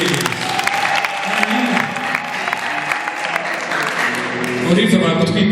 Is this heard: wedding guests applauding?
yes